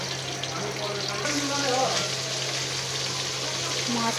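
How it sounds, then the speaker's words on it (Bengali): Rohu fish frying in oil in a pan on a stove, a steady close sizzle running throughout, with faint voices in the background. "মাছগুলো দুবারে ভেজে নেব।"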